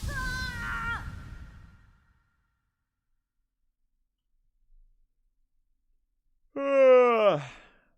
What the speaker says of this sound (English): Why am I yawning?